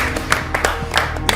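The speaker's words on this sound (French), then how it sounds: "Applaudissez." An audience at a French television stars show applauds with a loud, close rhythm of claps, a handful of sharp hand strikes spaced a beat apart rather than a dense ovation.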